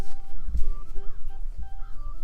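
Chickens on a farm give low, rough clucking calls, a few short bursts close by over steady outdoor background noise.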